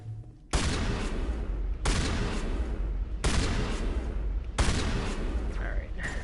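Four heavy shotgun blasts in Mass Effect Legendary Edition come at steady intervals of about a second and a half, each a loud sharp boom trailing off into a rumbling tail.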